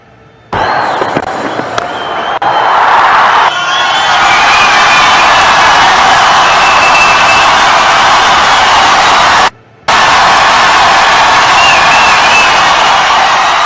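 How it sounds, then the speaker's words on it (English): A home crowd at a women's cricket match between Birmingham Phoenix and MI London roars and cheers after a six, a loud sustained wall of noise with a brief break in the middle. "Home crowd are absolutely delighted."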